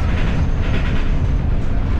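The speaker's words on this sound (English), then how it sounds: "Okay, we're on metro already, going to Rebibia station." Rome metro train in motion, a steady loud rumble and roar of the carriage running along the track, heard from inside with no talk.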